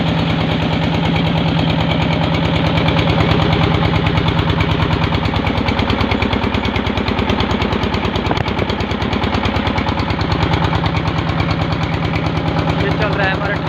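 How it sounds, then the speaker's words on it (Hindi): A diesel engine driving a farm tubewell in rural Pakistan chugs loudly and steadily up close, its rapid, even thumping pulse running without a break throughout. "तो ये सामने है जी डीजल इंजन चल रहा है।"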